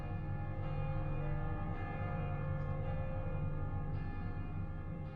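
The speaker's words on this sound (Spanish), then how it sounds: "En la distancia, podemos oír las campanas de Viviers, Mondol, Carfentan y Baguer-Morvan." Church bells of distant villages ring together in a steady, continuous peal, dense layered tones sustained throughout without pause.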